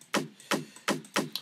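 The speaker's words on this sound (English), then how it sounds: "I found this percussion in a sample pack." Dry signature percussion sample with no effects, four sharp woody chop-like hits in a steady, evenly spaced rhythm, each with a short decaying tail, loud and alone.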